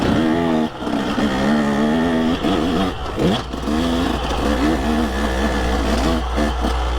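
A KTM 150 SX two-stroke dirt bike ridden on a trail at Boulders OHV, its engine loud and close, revving up and down repeatedly with rising and falling pitch and brief throttle dips.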